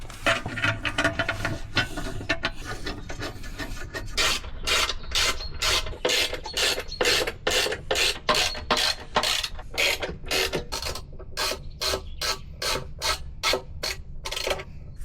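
Bolts are fitted for mounting brackets and a bash plate, a steady run of rapid, close ratcheting clicks that grows sharper and more regular partway through, with no talking.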